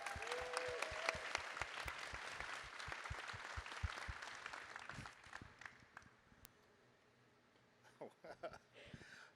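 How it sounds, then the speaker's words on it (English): A small audience at a Python Steering Council panel gives a round of applause, distinct claps that gradually thin out and fade, followed by a few quiet voices near the end. "I would like a round of applause for Emma"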